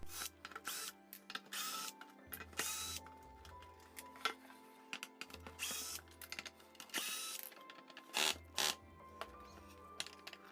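A power tool driving out fasteners on the top cover of a clothes dryer's heater duct, whirring in several short, fairly loud bursts separated by brief pauses and small mechanical clicks.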